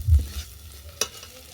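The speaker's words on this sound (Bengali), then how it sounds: "বিনসটাকে আমি ভালো করে কষিয়ে নেব যতক্ষণ না কোণা থেকে উঠে আসছে।" Beans stir-fried in a pan for a beans bharta, a short bout of soft sizzling and stirring with a scrape near the start and a sharp clink of the spatula about a second in.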